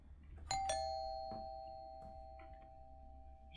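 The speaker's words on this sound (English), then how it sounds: "She keeps ringing the doorbell." A doorbell chimes twice in a house, a sharp strike followed by a long ringing tone that slowly decays, with faint knocks and creaks in an otherwise quiet interior.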